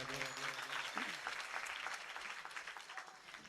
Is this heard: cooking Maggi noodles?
no